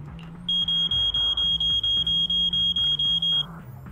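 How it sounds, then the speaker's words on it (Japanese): Alarm going off in the video game Zenless Zone Zero, a rapid series of about fifteen sharp, evenly spaced high beeps over a low background tone, with no talk. "本当に警報が来たぞ"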